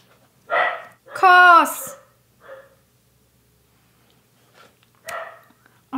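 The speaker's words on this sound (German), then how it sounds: "Kurze Pause, der Hund dreht durch." A dog barks indoors in a few short, loud bursts with quiet gaps between them, and a person calls out sharply among the barks.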